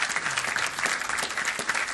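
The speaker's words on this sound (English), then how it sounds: "Let's give him a round of applause." Steady round of applause from the audience at a city council meeting, dense overlapping claps at an even level with no talk over them.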